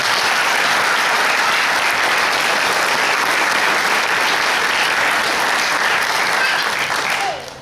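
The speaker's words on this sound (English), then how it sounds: "Let's give them a round of applause one more time." A hall of fame ceremony audience gives loud, sustained applause, dense steady clapping from a large crowd that fades out at the very end.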